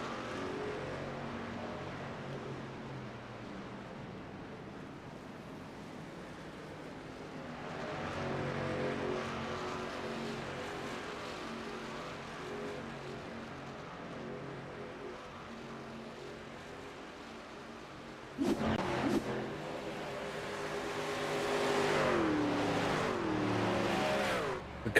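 Racing trucks at night at Daytona in a racing video game, a steady engine drone of several trucks that swells and fades, with a louder burst of revving and rushing roar near the end.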